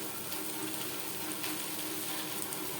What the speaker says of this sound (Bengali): ভাত অ্যাড করব আর নাড়তে থাকবো